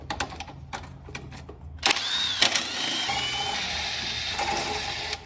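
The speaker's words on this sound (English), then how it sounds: "let's go ahead and begin with a nice little cold start and get that oil circulating" A Kawasaki Brute Force 750 ATV engine cold-starting: scattered clicks and taps first, then the engine catches at about two seconds and settles into a steady, fairly loud idle running to the end.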